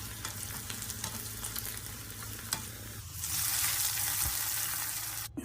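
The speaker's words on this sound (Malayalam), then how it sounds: "ചെറിയ ഉള്ളി, വറ്റൽമുളക്, കറിവേപ്പില ചേർത്ത് നന്നായിട്ട് വഴറ്റിയെടുക്കാം." Shallots, dried red chillies and curry leaves are sautéed in coconut oil with mustard seeds, making a soft sizzle with light stirring scrapes that swells into a louder, hissing fry partway through.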